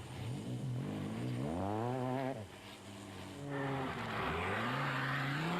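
Rally cars race across a desert stage of the UAE Desert Challenge, with engines revving and climbing in pitch as they accelerate and shift in two loud bursts close by.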